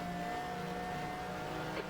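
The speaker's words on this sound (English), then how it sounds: "listen to this Maserati roar" A Maserati race car engine in the racing game GTR2 drones at a steady pitch, loud and continuous, with a slight change near the end as it goes past.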